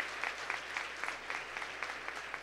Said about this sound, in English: Can we just do a quick round of applause for these great leaders